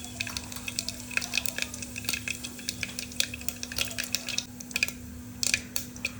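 Mustard seeds and cumin sizzling in hot oil inside a pressure cooker, giving a close, continuous crackle dotted with sharp pops and spits over a low steady hum.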